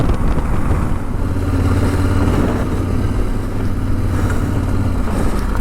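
Yamaha Tenere 700 motorcycle on the road, its engine droning loudly and steadily throughout with wind rush, close and continuous, no speech.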